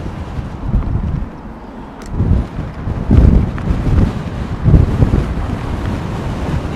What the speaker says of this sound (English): See, there's that wind again.